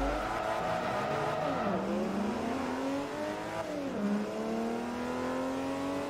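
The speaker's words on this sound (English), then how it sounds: "And that engine noise is lovely as well." A Mercedes engine in the Forza Motorsport 3 racing game hums steadily with rising revs, dipping twice as gears shift, then climbing again, a smooth continuous drone throughout.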